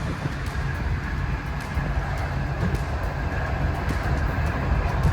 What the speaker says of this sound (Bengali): ট্রেন কিন্তু আমাদের এইবার দুরন্ত গতিতে ছুটে চলেছে দেখুন